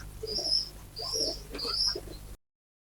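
Soft cooing from a pure-bred female pigeon, three low throaty coos in a row, close by and fairly quiet, with no talking.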